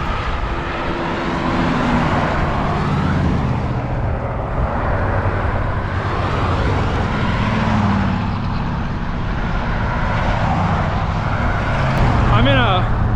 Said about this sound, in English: I start having lots of antique cars driving by me that made for an entertaining hour showing off their restorations and their roaring engine noises